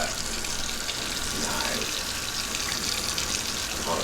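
Water runs steadily from a sink tap while a rainbow tie-dyed V-neck tee is rinsed, a continuous close rushing splash with a person briefly speaking over it.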